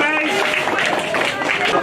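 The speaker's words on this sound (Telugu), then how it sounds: "గట్టిగా క్లాప్ కొడతాము." An audience at a school Sankranti festival claps loudly and steadily, a dense patter of hands mixed with voices talking over it.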